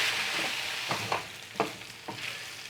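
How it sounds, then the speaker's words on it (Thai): Beef tongue stir-fried with red curry paste gives a quiet continuous sizzle, broken by three or four distinct scraping stirs of a spatula against the pan. "แล้วเป็นนี้ค่ะก็สิใส่ลิ้นลงไปเนาะ ก็ผัดให้มันเข้าทั่วถึงกัน"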